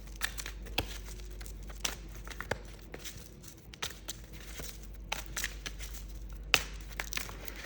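Tarot cards being shuffled, with soft papery riffles and a run of sharp little slaps and taps at an uneven rhythm, close and fairly quiet over a low steady hum.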